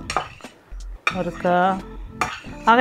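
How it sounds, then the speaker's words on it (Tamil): Chilli, garlic, onion and fennel being pounded in a pot, heard as a few heavy thuds alongside clinking, scraping metal and bright ringing clangs, up close. "மண்டில் ஒரு லைட்டான ஒரு இடிப்பு இடிக்கலாம்."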